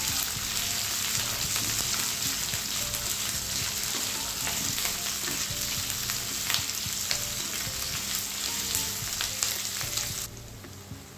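Diced onion and capsicum sizzling and frying in hot oil for Indian restaurant-style soya chilli, with continuous crackling and occasional stirring scrapes, close and steady before cutting off abruptly near the end.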